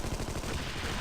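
Rapid automatic gunfire from rocket-armed enemies in the shooter game Armed and Dangerous, a steady, loud burst of repeated shots with no talk.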